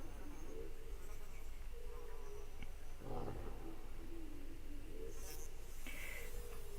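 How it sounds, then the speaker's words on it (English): Video game sound effect of flies buzzing around a wolf: a steady, staticky insect drone fills the whole stretch at low level, with a few brief brighter blips over it and no talk. "I know it's supposed to be the sound of flies buzzing around him, but it just sounds so staticky and weird."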